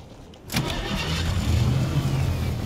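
A car engine in Fortnite cranks over with a sudden burst, then settles into a low, steady mid-pitched idle rumble that holds close and loud.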